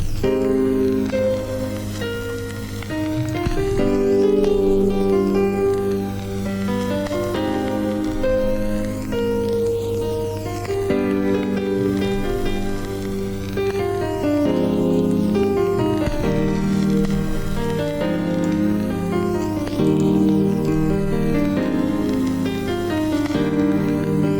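Layered keyboard chords play continuously with a swirling, sweeping whoosh and a washy reverberant tail, steady and moderately loud, no talking.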